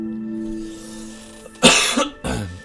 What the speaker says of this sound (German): Aber ich muss husten.